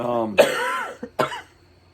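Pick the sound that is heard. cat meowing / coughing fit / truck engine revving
coughing fit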